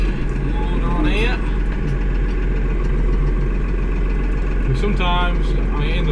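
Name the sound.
tractor engine idling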